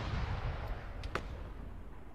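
Mortar artillery fire in the video game Arma 3: a low, rumbling boom that fades out, with a couple of sharper distant cracks layered over it and no talking.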